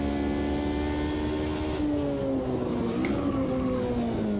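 A modded race car engine in Automobilista 2 drones loud and steady, its pitch sliding down and climbing again as the car shifts through gears, close up with no talk.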